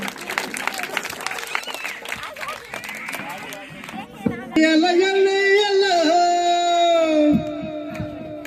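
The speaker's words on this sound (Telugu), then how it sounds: "వాళ్ళందరికీ చప్పట్లు కొడదాం, ఒకసారి గట్టిగా చప్పట్లు కొడదాం." An audience applauds children after a Christmas skit, with dense, lively clapping and some crowd noise for about four seconds before a singing voice with music takes over and the clapping fades.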